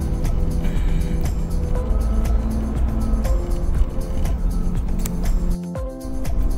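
Dense road traffic near Guadalupe in Metro Manila rumbles steadily, with engines droning and vehicles passing close by, heard loud and continuous from inside or beside a moving vehicle.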